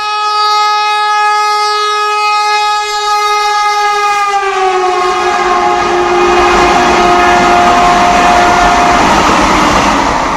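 A Vande Bharat express train blows a long, loud horn, then runs past with a rising roar and clatter of wheels on rails. The horn blast fades into the train's noise, with no voices.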